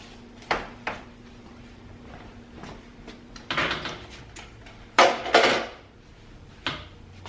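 Baked bread loaves are knocked out of their baking pans, giving a few sharp hollow thumps and clatters spaced apart, with two louder bursts in the middle, and no talking.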